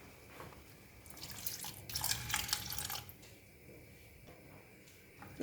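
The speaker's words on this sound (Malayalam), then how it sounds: "ഇതിലേക്ക് പുളി പിഴിഞ്ഞത് ഒഴിച്ചു കൊടുക്കാം." Squeezed tamarind water poured into a spinach curry, a soft liquid splash and trickle that builds over a couple of seconds and then fades into faint drips, heard alone without talk.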